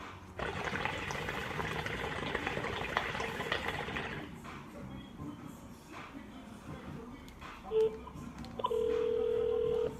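A telephone rings in a shop, sounding as a steady electronic tone that starts near the end after a stretch of rushing background noise and a brief beep.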